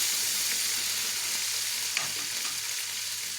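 Onions and carrots frying in a pan with a steady, bright sizzle, a few faint stirring clinks partway through.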